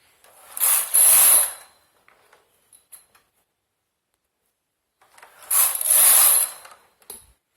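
A hand-operated knitting machine carriage slides across in two loud raspy mechanical sweeps, each about a second long, separated by quiet pauses with small clicks of needles being set for a jali lace pattern.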